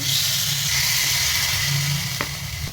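Batter for chitoi pitha hitting an oiled pan over a very low flame, a steady loud hiss that holds throughout, with a couple of faint clicks near the end.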